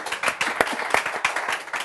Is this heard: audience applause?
yes